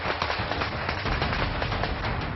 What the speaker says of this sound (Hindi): लगातार बंदूकों से गोलियां बरस रही हैं।